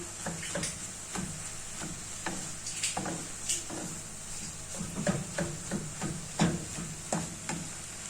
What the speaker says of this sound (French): On rajoute la viande hachée et directement on essaye de la écraser de cette façon.